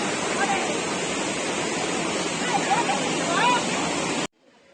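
Hogenakkal Falls in Tamil Nadu roars as a loud, constant rush of falling water that stops abruptly near the end.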